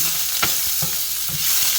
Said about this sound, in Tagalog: maglalagay tayo ng konting oil para maprito yung taba niya